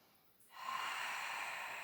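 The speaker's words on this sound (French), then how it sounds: "Inspire par le nez, gonfle la cage thoracique." Steady nasal inhalation during a Pilates breathing exercise, one long audible breath drawn in through the nose, close and fairly soft, starting after a brief quiet moment and continuing alone.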